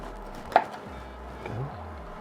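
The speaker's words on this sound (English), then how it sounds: "I'm going to cut in right here. Remove the leg from the breast." A knife cuts through a roast chicken, separating the leg from the breast, with one sharp crunching snap followed by softer slicing and low scraping against a board, close and alone without talk.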